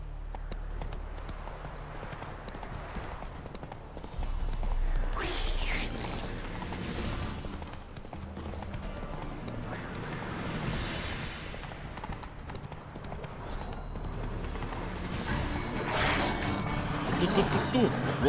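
Horse hooves clip-clop in The Witcher 3 video game, a steady rhythmic trot of soft knocks set against a low ambient rumble and faint game background sounds.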